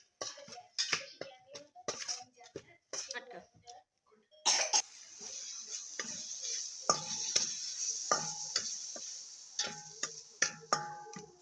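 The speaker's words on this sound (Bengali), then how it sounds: "এবার কিছুক্ষণ লাড়বো।" A spoon clicks and scrapes against a pan while salted, cumin-spiced food is stirred on the stove, with light sizzling and someone talking over it.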